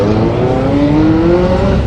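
A supercar engine revving at a busy car meet, a loud, close, sustained drone whose pitch rises steadily across the short burst, with no voices.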